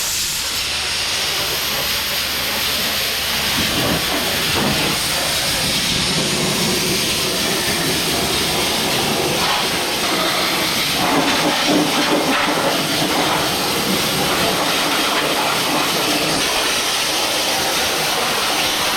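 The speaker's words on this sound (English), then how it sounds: "But now we're ready to sandblast." Sandblasting works along the underside of a vehicle, a loud, unbroken abrasive hiss and roar that runs nearly twenty seconds with slight shifts as the nozzle moves.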